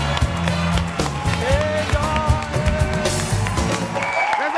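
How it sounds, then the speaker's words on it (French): A studio audience at a French-language variety show claps and cheers in a dense, continuous wave, loud and close, with some whoops and shouting mixed in. "On applaudit pour Abou de Beng."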